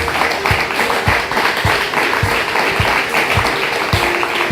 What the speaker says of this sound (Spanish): ¿Por qué no le damos un fuerte aplauso a ellos?